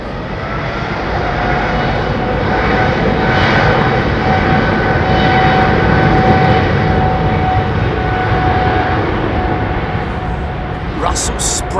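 A Qatar Airways Boeing 777 jet roars steadily at London Heathrow, a loud, broad engine rumble holding for about twelve seconds as the aircraft passes close by, with no voices.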